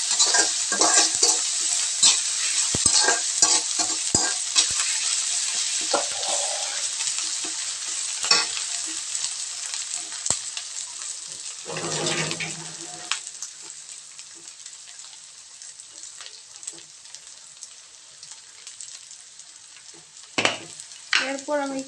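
Ginger and garlic paste fries and is stirred in a hot pan for a fish curry, a steady close sizzle with scraping spoon strokes and clinks throughout, louder at the start and easing slightly toward the end.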